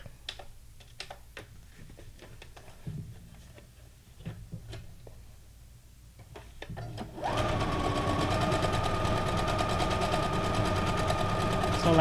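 Sewing machine stitching fabric onto paper for a junk journal, starting after quiet handling noises and then running as a loud, steady, rapid mechanical whir to the end.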